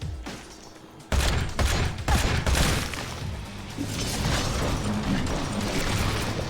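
A flashbang grenade goes off in the horror game White Knuckle: a loud, sudden broadband blast, then a sustained harsh ringing wash that fills the rest of the moment, with scattered game noises underneath.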